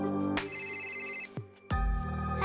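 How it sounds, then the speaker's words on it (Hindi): A telephone rings in a home with a bright electronic ringtone: two loud ringing bursts separated by a short gap, close and clear, with no talking. "अगर शर्मा अंकल हो ना फोन पर तो उनको बोलना पापा घर पर नहीं है।"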